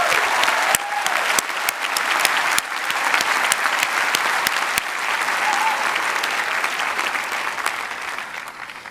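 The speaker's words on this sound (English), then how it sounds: "let's all give a round of applause for our support systems and our families and our friends" Sustained audience applause at a college commencement ceremony, a dense steady wash of many hands clapping loudly throughout, with a few sharper individual claps standing out and faint voices mixed in.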